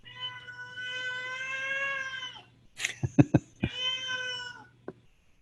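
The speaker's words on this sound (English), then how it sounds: "That actually is a cat that's begging me for some snacks." A house cat begging for snacks meows: one long drawn-out meow, a few quick clicking chirps, a second long meow, then a brief final mew, fairly close and alone.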